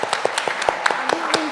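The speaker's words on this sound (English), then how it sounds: "So let's give them a round of applause." A small group claps in a conference room after thanks to a digital inclusion team, with crisp, separate, fairly close hand claps in a loose rhythm and a brief voice underneath.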